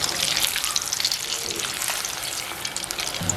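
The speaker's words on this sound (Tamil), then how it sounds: "இப்போ நாங்கள் ஒன்றொண்டா போட்டு பொரிப்போம்." Steady, dense sizzling and crackling of modak dumplings deep-frying in hot oil, continuous and close, with no talking.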